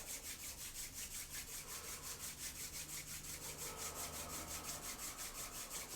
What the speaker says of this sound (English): we're going to take our hands and rub them together